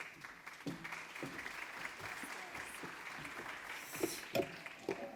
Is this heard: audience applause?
yes